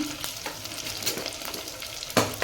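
Onions with green chillies sizzle in hot oil for a tempering, a close steady frying hiss broken by irregular stirring scrapes and a sharper clatter near the end.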